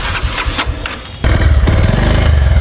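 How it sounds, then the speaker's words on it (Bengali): A Bajaj Pulsar 150cc motorcycle fires up and settles into a loud, steady, close-up idle, its low throbbing engine beat continuing alone. "বাইকটা যদি স্টার্ট করে সাউন্ড কন্ডিশন দেখায় দেখুন এই টাইপের হবে"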